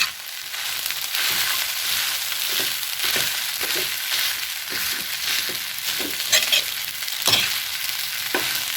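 Smoked fish (tinapa) is stirred and toasted in a pan, a loud, steady sizzle broken by repeated scraping and crunching strokes of a spatula at an irregular rhythm.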